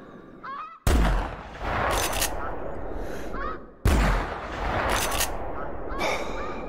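Two sharp, loud rifle shots aimed at a bison in the hunting video game theHunter Classic, about three seconds apart. Each crack is followed by a long rolling echo, and distant bird calls are also heard.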